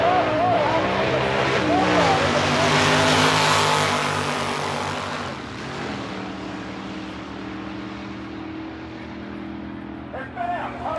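Cadillac drag car in a naturally aspirated class launching at a small night drag race, a loud broadband engine roar that peaks early and then fades as it pulls away, with crowd noise and commentary throughout.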